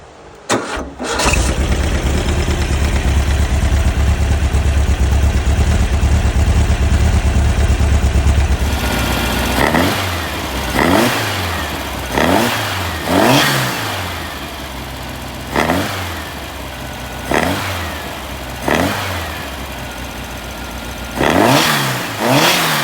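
An Empi Egas 38/38 small stroker engine cranks and fires, holds a loud steady idle for several seconds, then is blipped in a series of about eight sharp revs that rise and fall back to idle, heard up close with no talking.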